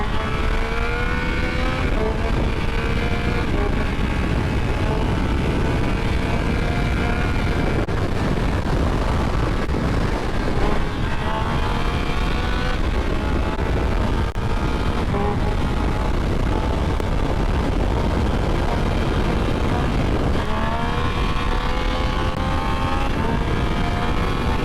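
A 2025 Triumph Speed Triple 1200 RS motorcycle ridden hard on a race track during wheelie practice, its engine roaring loud and continuous as revs climb and fall through gear changes.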